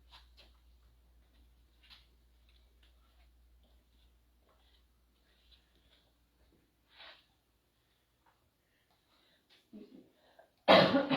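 Long near-silence in an old historic hospital building with faint scattered breaths and rustles, then a sudden loud sneeze bursts out close by right at the end.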